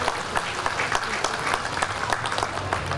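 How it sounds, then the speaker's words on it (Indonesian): Applause from the audience at a formal speech in Malaysia, a steady patter of many hands clapping at moderate volume for a few seconds. "Tepuklah untuk anak Malaysia kita ini."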